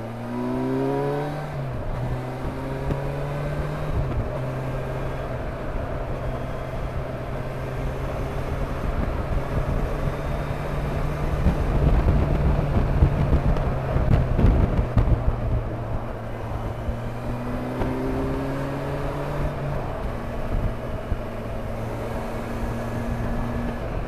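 A 2020 Kawasaki Versys 1000 motorcycle is ridden on a twisty road, its engine droning steadily and climbing in pitch through several gear changes, with heavy wind rush swelling in the middle as it accelerates, heard from the rider's position.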